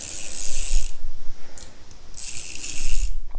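A 24-in-1 precision ratchet screwdriver ratcheting, rapid fine clicking in two bursts with a short pause between, close and alone.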